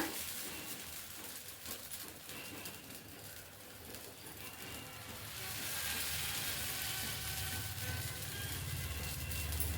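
Mixed-lentil dosa batter, made without rice or urad dal, being spread on a hot pan; a steady soft sizzle and hiss that grows fuller and louder partway through, with no talk.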